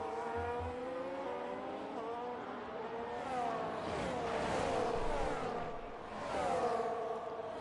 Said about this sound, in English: Hugo charging down the main straight and straight past Ghost